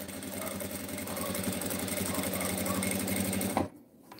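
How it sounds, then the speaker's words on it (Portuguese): Sewing machine stitching a fabric cutlery holder, a steady, close mechanical whir that runs continuously, then stops abruptly near the end and leaves quiet. "Agora eu vou costurar aqui, ó."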